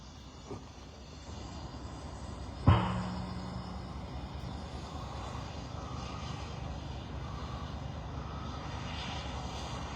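An A-Star helicopter's engine whines and rumbles steadily as it starts up for fire crews fighting fires in north-east British Columbia, a continuous mechanical drone after a brief clunk, heard from a moderate distance.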